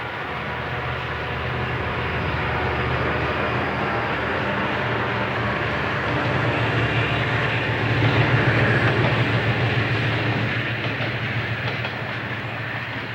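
A freight train hauled by SD45 and SD40 tunnel motor locomotives, one a repainted ex-Cotton Belt SD45T-2, rolls past on a steep mountain mainline with a steady diesel rumble and wheel noise that swells slightly midway.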